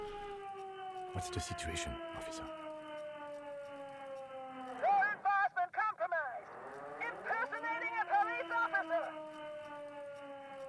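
A siren wails in the video game Disco Elysium, a steady rising and falling tone that runs through the whole stretch while voices talk and shout over it.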